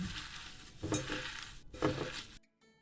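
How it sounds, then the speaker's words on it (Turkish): Wild lettuce leaves are rubbed by hand with a spoonful of salt, giving a close, continuous wet rustle and squeak with two stronger bursts of scrunching before it suddenly stops. "Bunu bir güzel tuzla ovacağım inşallah"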